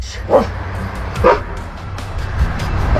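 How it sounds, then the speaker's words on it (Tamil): A dog barks at a bear, with two sharp, close yelps about a second apart and a softer bark near the end over low background rumble. "இங்க நாய் ஒண்ணு தன்னை நோக்கி குறைச்சதை பார்த்த கரடி அது என்ன பண்ணிருக்குன்னு பாருங்க."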